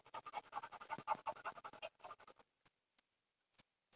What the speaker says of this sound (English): I'm scraping with a screwdriver, still not getting through that junk.